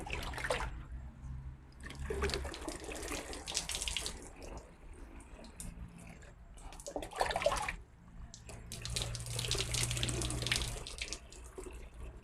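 Photosynthetic bacteria culture liquid pours steadily to fill a container to the brim, a continuous splashing gush with gurgling and slight variations in flow, close and moderately loud for about twelve seconds.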